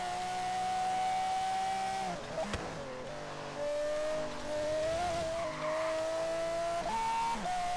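A Honda NSX set up for off-road driving in Forza Horizon 3 roars in a steady, whining engine drone that rises and dips with gear changes and throttle lifts, close and continuous, with brief tire skids mixed in.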